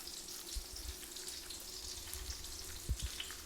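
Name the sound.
shrimp cakes frying in a pan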